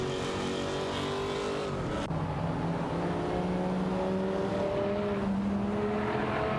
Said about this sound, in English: Both pairs are driving impressive muscle cars, the Chevrolet Corvette C4ZR1 and the Dodge Viper GTS ACR 99.